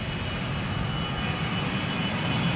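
An easyJet jet takes off at Amsterdam Schiphol with a loud, close, continuous engine roar that stays strong throughout and has no talk over it.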